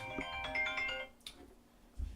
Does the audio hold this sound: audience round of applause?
no